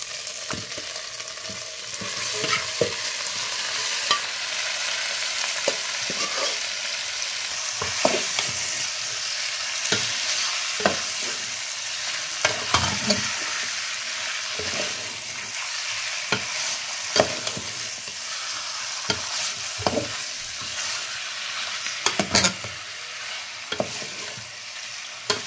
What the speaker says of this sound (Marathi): त्यानंतर आपण टाकणार आहे आता चिकन फोडणीला